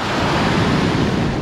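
Sea waves and strong wind on an eroding shoreline make a loud, steady roar of surf and wind noise close to the microphone, with no voices.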